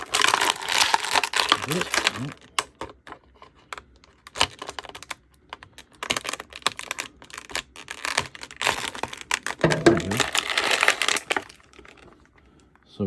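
Plastic packaging around a 1990 Playmates Teenage Mutant Ninja Turtles Storage Shell Donatello figure is cut and torn open, close crinkling, snipping and crackling in bursts, with a brief spoken word.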